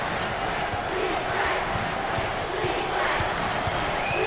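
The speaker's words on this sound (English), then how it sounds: "You talk about a packed house. Look at this crowd." Packed basketball arena crowd at an NIT quarterfinal between LSU and Providence, a dense continuous roar of cheering and noise, steady throughout with a commentator talking over it.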